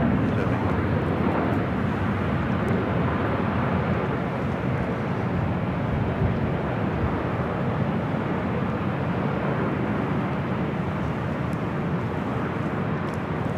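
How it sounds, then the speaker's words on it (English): A WestJet Boeing 737-800 airliner at LAX roars loudly and steadily throughout, a broad continuous jet engine rumble with no pauses. "WestJet heading to Calgary, a 737-800, flight 1511."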